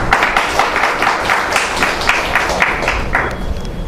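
A room full of people at a Korean forum on moving to rural farming life claps steadily, a dense patter of applause that carries on without pause.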